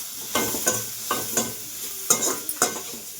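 Food is stirred in a pan of hot mustard oil with salt and turmeric, giving repeated scraping strokes about every half second over a soft, steady sizzle, close by with no talking.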